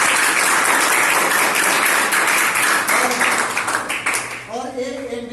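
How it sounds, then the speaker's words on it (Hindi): Ninth-grade students clap loudly for a special guest, a dense, close burst of hands that thins toward the end as a voice begins talking over it. "इनके लिए ताली मार दीजिए"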